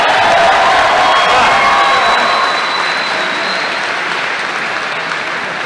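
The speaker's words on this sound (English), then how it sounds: "Let's have another round of applause for John Carpenter." An audience at a convention panel with director John Carpenter and the 1978 Halloween cast applauds in a loud, dense, sustained roar that gradually fades slightly.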